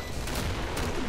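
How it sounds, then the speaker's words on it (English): Rapid bursts of Killing Floor gunfire and explosions crackle in quick succession, loud and close, with no one speaking. "Such explosions!"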